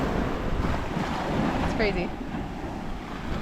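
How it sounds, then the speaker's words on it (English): Ocean surf washes steadily onto Libanuna Beach at Fort Dauphin, Madagascar, a continuous broad wash with wind noise on the microphone, while a person speaks briefly over it. "This is Libanuna Beach."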